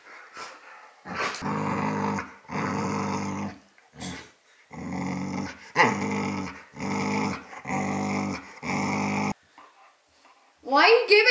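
A dog growling in repeated low rumbling bursts, close and fairly loud, separated by short pauses, with a person speaking briefly near the end.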